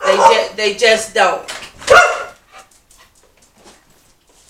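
Dog indoors barking and whimpering in a home, a few loud close yips and whines mixed with a person talking, then quieting to faint scattered noises.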